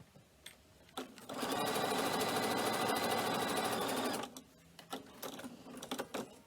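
A sewing machine stitches a straight line across a cork messenger bag in one steady, even whirring run of about three seconds, with softer handling clicks before and after.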